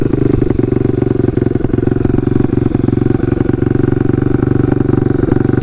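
A KTM 150 RXF motorcycle engine drones loud and steady during a wheelie, held at a constant rumbling pitch close to the rider, with no talk.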